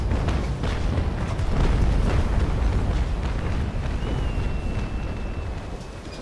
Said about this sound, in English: La Fortune fires a hopeful broadside.